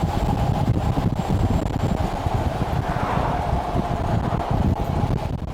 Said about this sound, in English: strong headwind.